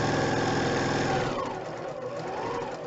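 A sewing machine stitching quilting fabric straight off the edge of the piece, a steady close motor hum that eases and shifts pitch partway through as the run slows.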